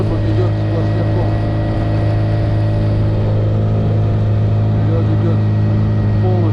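A motorboat's outboard engine drones steadily and loudly while pushing through dense river ice, with low rumbling and scattered irregular knocks and scrapes across the continuous engine noise.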